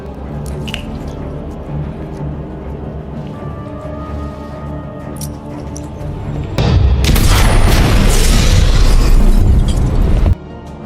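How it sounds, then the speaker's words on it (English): Film apartment blown up, a sudden massive boom bursting in after quieter dripping and squishing sounds, then a roaring, crackling blast that holds for several seconds before cutting off abruptly. "The apartment is then blown up by Smith and Sleven."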